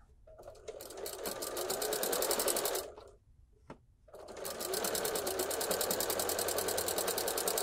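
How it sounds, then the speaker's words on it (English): A sewing machine stitches pillow fabric in rapid, even bursts, loud and close, stopping briefly for a pivot at the corner and then starting again at a steady pace. "back stitching and needle down, and we're gonna pivot"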